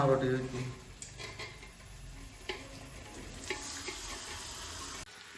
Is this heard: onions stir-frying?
yes